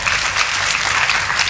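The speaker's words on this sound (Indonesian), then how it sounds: "Boleh kita beri tepuk tangan yang paling meriah?" A church congregation applauds loudly and steadily, dense clapping filling the room without pause.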